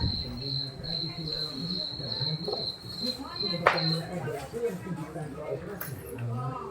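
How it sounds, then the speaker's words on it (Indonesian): Crickets chirping in a steady high trill that stops partway through, heard under someone talking nearby, with a sharp tap or knock in the middle. "dulu jangkrik ngerik."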